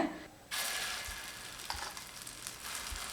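Soya chunk and egg omelette batter fries in oil on a hot dosa griddle: after a brief quiet start, a steady, moderately loud sizzle begins and holds, with a few faint low bumps.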